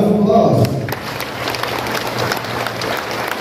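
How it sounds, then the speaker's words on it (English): Guests at a municipal oath-taking ceremony in La Trinidad break into applause: a voice over a loudspeaker at first, then a sustained, even wash of clapping from a sizable crowd. "Let us give them a round of applause."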